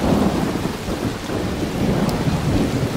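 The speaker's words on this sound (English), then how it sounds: "an electromagnetic storm is currently raging over topside" An electromagnetic storm rages in a video game: dense steady rain with deep rolling thunder rumbles continuously, loud and enveloping, with no voices.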